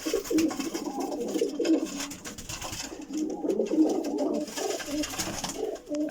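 Pigeons coo steadily in low, throaty bursts throughout, close by, with a busy rustle and faint chatter in the background.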